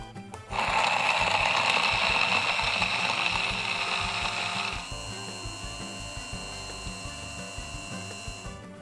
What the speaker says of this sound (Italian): emulsioniamo con un frullatore ad immersione